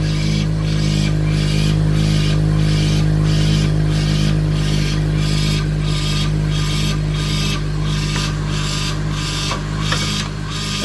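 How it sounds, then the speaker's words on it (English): A 2005–2010 Honda Odyssey or 2007–2013 Acura MDX engine idles close by with a leaking power steering hose, giving a steady low hum and a rhythmic pulsing whir that repeats about once a second, with no talk. "I'm gonna turn off the engine now."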